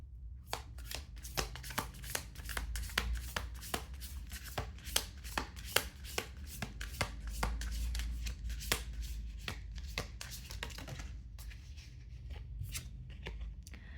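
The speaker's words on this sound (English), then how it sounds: "Let's just reshuffle." Tarot cards being reshuffled by hand, a long run of quick riffling flicks and taps, close and fairly quiet, with no talking.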